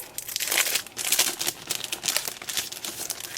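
Paper ephemera handled during a creative-studio craft unboxing: close, continuous crinkling and rustling with brief sharper crackles and rubbing bursts, loud and alone without speech.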